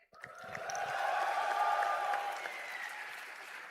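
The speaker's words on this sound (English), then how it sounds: "Can we have a loud cheer?" A convocation audience breaks into applause and cheering for a graduating class, swelling to a steady roar, then holding and easing slightly, fairly distant and diffuse.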